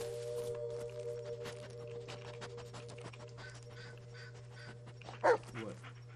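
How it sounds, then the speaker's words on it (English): Bullet, a dog in the Blair Witch video game, gives one short, fairly loud whimper near the end over a quiet, steady game hum, with no talking. "Dude, this dog is so cute."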